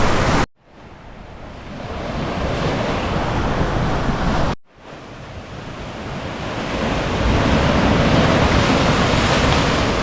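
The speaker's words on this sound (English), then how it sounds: "we'll go and sample this divine looking ocean here at Impossible's Beach" Ocean surf rolls in steadily at Impossibles Beach in Uluwatu, Bali, a loud, close, continuous wash of breaking waves with gusty wind noise and two brief dropouts.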